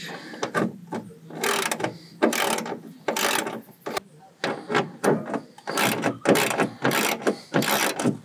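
Ratchet loosening the front intake bolts on a Mitsubishi Montero during head gasket work, a close series of quick clicking bursts repeated in a steady back-and-forth rhythm.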